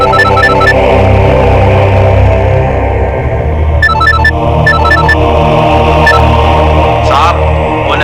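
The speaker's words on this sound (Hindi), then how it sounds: "अरे सुनिए, आपका फोन बज रहा है।" An electronic phone ringtone chirps in short repeating bursts over a loud, steady musical background.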